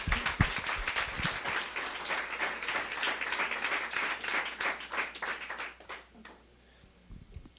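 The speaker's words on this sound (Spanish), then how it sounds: "Denle un aplauso al Señor" A church congregation breaks into lively applause for the Lord, dense rapid clapping that holds steady for several seconds before thinning out and stopping near the end.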